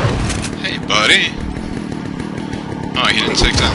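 A chainsaw-wielding enemy in the Resident Evil 4 video game revs its saw in loud bursts around the first and last second, over a steady rumbling game background.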